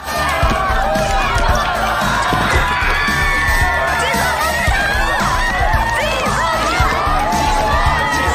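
Students at a school sports match cheering and shouting loudly as a crowd, a dense continuous roar of young voices with whoops.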